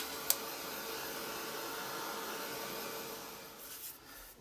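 Hair dryer blowing to dry paint on an art journal page, a steady close whooshing hiss after a brief click at switch-on, easing slightly toward the end.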